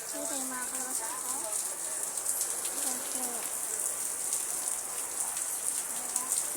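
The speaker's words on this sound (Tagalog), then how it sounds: "Naulan ngayon." Steady rain falls throughout, a dense even patter on surfaces, with someone talking intermittently over it.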